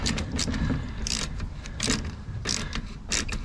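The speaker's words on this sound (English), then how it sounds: "Okay, so let's unscrew these pieces." Screws being backed out of a boat rudder during a repair, heard as repeated close metallic ratcheting clicks and squeaks in short bursts, with a steady low mechanical rumble underneath.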